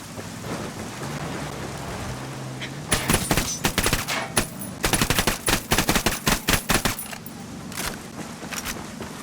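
Rapid bursts of automatic gunfire and single shots crackle loudly in a Tom Clancy's Ghost Recon Wildlands firefight, clustering in dense volleys after a quieter stretch of ambient game sound.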